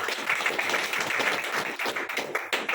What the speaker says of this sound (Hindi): और अभी इनके लिए जोरदार तालियां